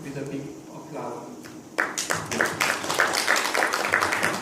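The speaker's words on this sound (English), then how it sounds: "Please welcome him with a big applause." At a scientific symposium on CRISPR genome editing, a brief spoken line gives way to audience applause welcoming a speaker, a sudden, dense burst of clapping that holds steady to the end.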